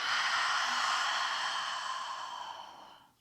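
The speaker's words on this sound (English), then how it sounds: "Breathe in through the nose. Exhale out the mouth." A long, airy exhale during a power vinyasa yoga class, one steady breath held for a few seconds that fades out at the end, close and soft with no talking.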